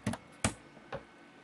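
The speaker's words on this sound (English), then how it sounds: "Let's type contour." Three sharp key taps on a computer keyboard, close and distinct, the first two quick and crisp, the third fainter, with no voices.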